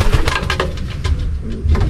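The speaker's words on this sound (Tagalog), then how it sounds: "Yan yung inanak mga kalapatid." Young racing pigeons coo softly at close range, a few low throaty burbling calls in quick succession with no talking.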